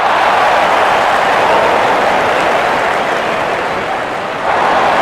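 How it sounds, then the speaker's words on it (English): A cricket crowd roars and applauds a batsman reaching his double hundred, a loud, dense wash of noise that holds steady and dips slightly just before the end. "Gets the applause it deserves."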